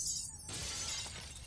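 Glass of a phone booth shattering in the Mafia video game, one sharp close crash with a bright spray of breaking shards that rings out briefly and fades.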